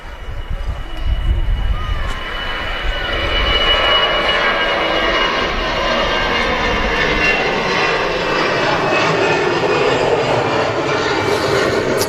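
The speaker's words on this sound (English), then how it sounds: "Another Lufthansa A380 now rolling." A Lufthansa Airbus A380 rolling for takeoff at Manchester Airport, a loud sustained jet engine roar building and holding steady across the whole span, heard from a distance.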